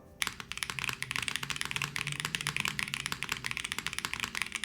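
Fast, continuous clacky keystrokes on a Float65 mechanical keyboard, crisp and close, typed at a steady brisk pace with no talking.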